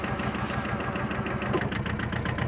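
A John Deere 650 compact tractor engine idles nearby with a steady, dense mechanical rumble and slight knocking texture. The sound holds at an even level throughout, with no voices.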